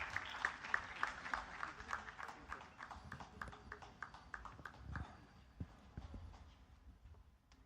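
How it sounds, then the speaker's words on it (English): Audience applause welcoming Dr. Vijay Bhatkar at a national scientists' round table conference: faint, fairly sparse hand clapping from a hall crowd, brisk at first and gradually thinning out. "Please put your hands together and welcome with a big round of applause"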